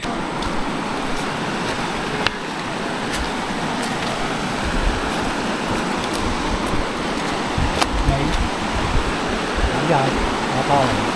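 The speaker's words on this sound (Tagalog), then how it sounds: "malakas yung agos ng tubig" A strong water current roars steadily and loudly throughout at the Natenggang project in Tarlac, a dense continuous wash with occasional faint clicks on top.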